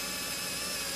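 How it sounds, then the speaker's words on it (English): A 10mm drill bit driven freehand into a piece of timber, giving a steady, dense whirring grind that holds constant and loud throughout without any talk. "That's absolutely a 10mm drill straight into the piece of wood."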